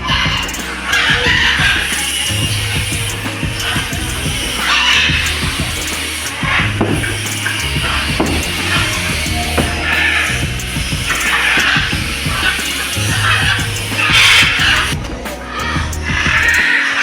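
Many birds call at a bird park at Kelaniya in Sri Lanka, a dense, steady chorus of chirps and squawks with a few crowing or clucking cries standing out, loud and continuous throughout.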